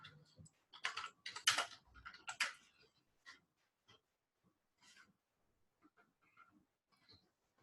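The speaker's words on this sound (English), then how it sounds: "I'm typing something to the group" Keys clatter on a computer keyboard in quick bursts, loud and dense for the first few seconds, then thinning to sparse, softer taps with pauses between.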